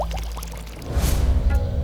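Water pours from a river into a pot, a short gushing fill that swells loud after a brief faint stretch, with a watery splash trailing off at the end.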